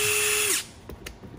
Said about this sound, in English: when I pull the trigger, it's sensing that there's nothing there, and it's slowing that down really slow in that bolt removal mode